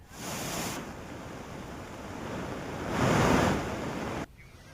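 Rushing floodwater from heavy rain pours over a low-level causeway, a steady broadband roar that swells louder near the middle and cuts off abruptly near the end, with no voices.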